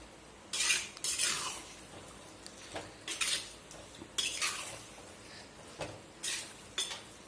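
Chicken curry with masala being stirred in a pan, with a spoon scraping and clinking against the metal in several separate bursts. It sounds close and moderately loud, with quiet gaps between the strokes and no talking.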